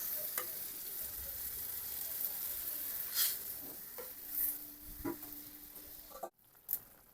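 Curry broth of rui fish and green plantain at a rolling boil in a pot, a soft, continuous sizzling bubble with a few faint clinks and taps near the end.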